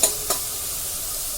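Ginger-garlic paste sizzles steadily in hot oil while being stirred for a fish-head curry, a close, even hiss with two brief clinks near the start.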